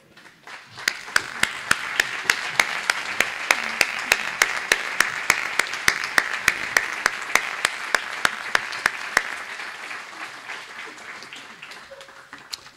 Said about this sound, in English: please stand and let's honor them with our applause and our thanks